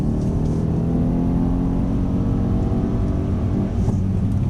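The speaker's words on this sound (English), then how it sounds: "Accelerate away" A Mercedes-Benz car accelerates away on a wet driving track, its engine droning loud and steady with a continuous low rumble and rising harmonic whine throughout, no voices over it.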